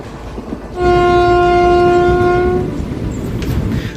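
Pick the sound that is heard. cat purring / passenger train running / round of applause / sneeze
passenger train running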